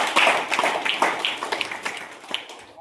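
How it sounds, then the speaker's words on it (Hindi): Scattered hand claps from a small gathered audience greeting Mr. Tayyab, a loose burst of individual claps rather than a dense roar, tapering off toward the end. "मैं जोरदार ताली उनके लिए"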